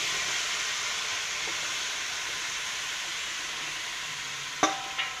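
Taro (mana kochu) sizzles in a hot kadai as a steady, hissing fry. A couple of sharp clatters of a utensil against the pan come near the end.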